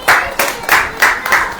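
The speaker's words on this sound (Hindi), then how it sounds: "ताली बजाइए।" A congregation claps hands in a sermon hall, five or six loud, even claps in steady rhythm close by, with faint voices behind.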